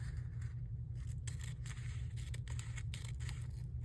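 Scissors cutting through plastic packaging, a series of short crisp snips and scraping rustles close up, over a steady low background hum.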